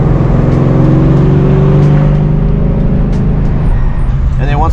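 A 2003 Ford Mustang engine drones steadily at speed on a freeway, with road and wind noise filling the background and the engine pitch shifting slightly.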